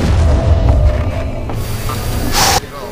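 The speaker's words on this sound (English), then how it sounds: "The shit just blew up!" A loud video game explosion bursts with a heavy low boom and a hissing, crackling tail that cuts off sharply near the end.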